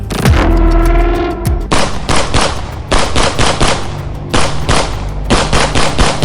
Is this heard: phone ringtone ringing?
no